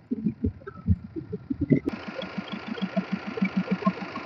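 A 2016 Tata Bolt XE diesel car cranks briefly, then catches and settles into a steady, rhythmic diesel idle with an even knocking pulse, heard close and clear.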